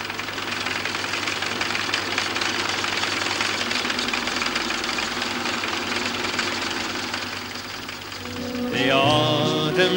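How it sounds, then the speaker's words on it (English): A tractor engine runs steadily during a corn harvest in Armagh, a loud continuous knocking diesel drone, with a different rising mechanical tone near the end and no talk. "Local neighbour David McElroy drives the tractor while Colm Ferris himself pushes the corn ba"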